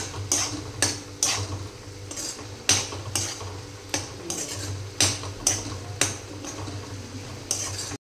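Cumin and coriander powder being stirred into mushroom masala in a pan, a spoon scraping and clinking against the metal in a steady rhythm of sharp ticks about every half second over a low background hum.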